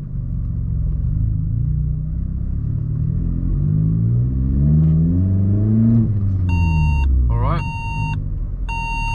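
A Vauxhall Corsa's seatbelt warning chimes in a few sharp repeated electronic beeps over the steady low rumble of the engine while driving, with a brief rising whine between them.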